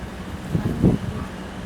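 Wind buffets the microphone in soft, low gusts, with a couple of louder rumbling puffs in the middle.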